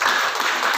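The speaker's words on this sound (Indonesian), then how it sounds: "Coba tepuk tangan dulu." Audience applause at a school accreditation presentation, a dense steady burst of clapping filling the whole moment without pause.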